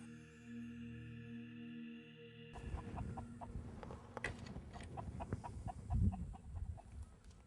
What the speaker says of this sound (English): The chicken.